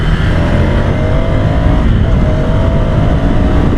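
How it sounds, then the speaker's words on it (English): A Ducati motorcycle engine, Scrambler or Monster 797, runs during a road ride, giving a loud, steady drone close up with gently shifting pitch and constant wind rush mixed in. "This is a smooth engine, man."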